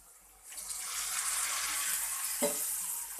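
Tomato going into onions already fried golden brown for an egg gravy, a rising wet hiss and sizzle that swells after a quiet start, with a couple of sharp clatters near the end.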